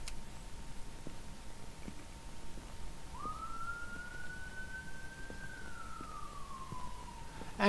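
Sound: police sirens in a video game

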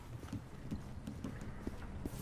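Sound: horse galloping in a video game

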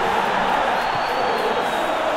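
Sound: stadium crowd cheering in PES 2021 video game

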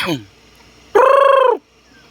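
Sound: red junglefowl (labuyo) calling

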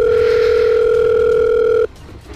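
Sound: telephone dial tone in Sakura School Simulator video game

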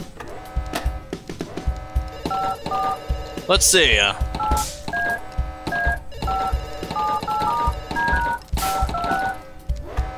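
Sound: telephone number being dialed in a video game

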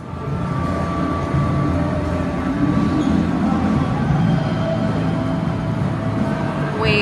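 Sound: train riding

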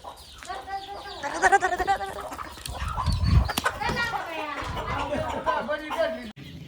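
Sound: chickens clucking on poultry farm

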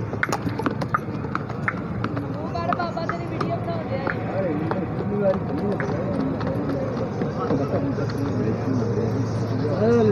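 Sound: horse hooves clip-clopping

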